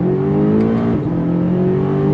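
A 2022 BMW M5 CS engine revs hard under throttle, a loud, steady, close harmonic roar that holds its pitch throughout with no talk over it.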